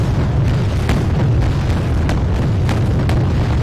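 Missiles launching and detonating in the naval battle game Wargame: Red Dragon, a loud, dense wall of rumbling booms with sharp blasts cracking through every second or so throughout.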